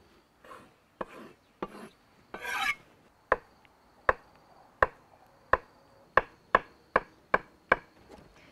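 Knife chopping ingredients such as lettuce and luncheon meat on a cutting board in a home kitchen: a dozen sharp, separate chops, the first few rough and rasping, then a steady evenly spaced rhythm, close and crisp with no talk.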